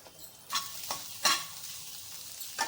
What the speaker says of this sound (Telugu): ఇలా ఎగ్ మిక్సీ తయారు చేసుకుని కొంచెం వేగిద్దాం